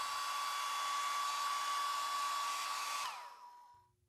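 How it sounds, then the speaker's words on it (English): A hairdryer blows steadily at close range while heating a dbrand phone skin, a constant whooshing rush with a high whine, then winds down and cuts off near the end, leaving near silence. "Grab your hairdryer once more and heat up the left side of the skin."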